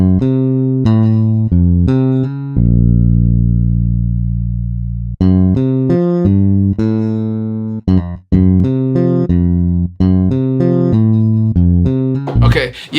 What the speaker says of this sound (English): This bass is called Scarby J bass.